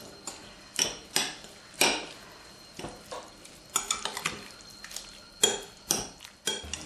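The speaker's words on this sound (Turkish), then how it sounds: "Son olarak da iki çorba kaşığı mayonezi ekliyoruz. ve karıştırıyoruz." A spoon stirs mayonnaise into a salad in a bowl, producing irregular clinks and scrapes against the dish at an uneven pace, close and fairly clear against a quiet background, with no speech.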